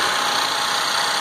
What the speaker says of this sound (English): You can hear the engine running right now.